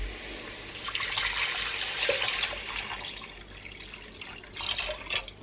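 Water poured from a container into a pot of cooking Tunisian chorba over tomato paste, a steady close splashing gush lasting several seconds without pause, with no voices.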